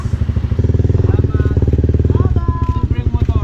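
A Honda CB150X motorcycle engine running with a steady, throbbing low pulse close by as it pulls away, with a brief pitch change partway through and voices talking over it.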